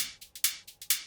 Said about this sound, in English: this hi-hat loop,